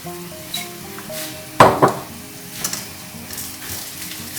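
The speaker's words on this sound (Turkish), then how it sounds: "1-2 dakika sadece pirinçlerimi hafif kavuracağım soğanla beraber" Rice sautéing with chopped onions in a pan for stuffed green tomatoes, a soft steady sizzle with a couple of louder bursts of stirring and scraping in the middle, fairly close and with no talk.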